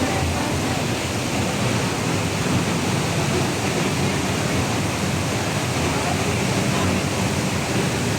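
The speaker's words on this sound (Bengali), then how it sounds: "এই ওয়াটারফলসটা একদম উপর থেকে নিচ পর্যন্ত টোটাল চোদ্দোটা স্টেপে নেমেছে" Giessbach waterfall near Lake Brienz, Switzerland, tumbles down fourteen steps in a dense, constant roar of rushing water, loud and close without a break.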